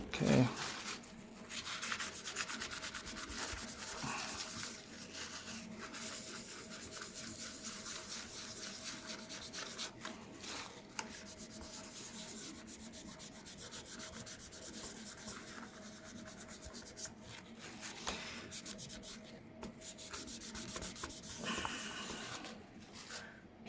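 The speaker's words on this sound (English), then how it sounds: "Put some acetone on the napkin, and we're gonna scrub this glue." A napkin soaked in acetone scrubs glue off a MacBook's internals during a battery replacement. Soft, continuous rubbing and scraping runs throughout, close up but fairly quiet, with brief pauses and changes in the strokes.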